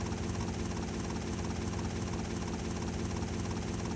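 Helicopter in Grand Theft Auto: Vice City Stories, a loud continuous rotor chop and engine drone that stays steady and close throughout.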